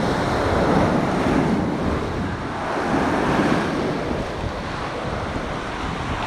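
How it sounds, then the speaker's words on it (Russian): Steady roar of storm surf breaking on Ordzhonikidze beach in Crimea, with gusty wind buffeting the microphone throughout; no voices. "Волны стали больше."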